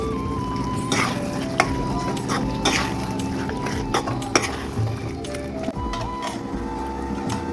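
Chicken gravy simmers in a pan while a utensil stirs and scrapes it, with repeated metallic clinks and taps over a soft bubbling sizzle.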